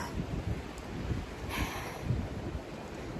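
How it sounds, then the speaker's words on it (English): Steady wind gusts rush across the microphone on a forest hiking trail in April, a continuous low buffeting roar with faint rustling, close and fairly loud, no voices. "It's weird being so windy."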